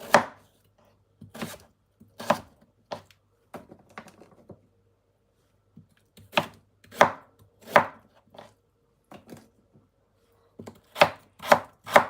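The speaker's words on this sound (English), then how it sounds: "Chop up the carrots. Chop up my potato." Carrots and potatoes chopped with a knife on a board, close and alone: bursts of sharp, rapid chops separated by short pauses.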